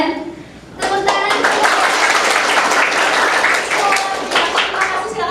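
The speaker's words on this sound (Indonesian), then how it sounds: "Tepuk tangan." A classroom audience bursts into applause after a brief pause, with dense, sustained clapping carrying on loudly and evenly for several seconds and a few voices cheering underneath.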